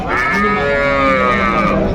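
A Jersey cow at a cattle market lets out a single long, loud moo that holds steady for about two seconds, close and clear.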